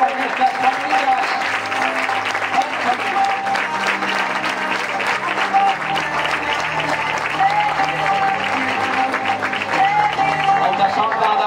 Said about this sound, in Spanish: Fort aplaudiment per aquestes famílies.